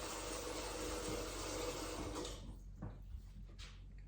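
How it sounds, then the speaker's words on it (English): Water from a tap pours into a pot holding a Thanksgiving turkey, a loud steady splashing rush that stops abruptly after about two seconds and leaves a quiet kitchen with a few faint knocks. "I'm gonna add a little bit more water to it"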